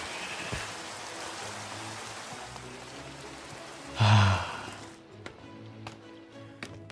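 Minecraft rain patters as a continuous broadband wash, fairly close and even, with a brief louder swell midway before the rain cuts off abruptly, leaving only faint clicks.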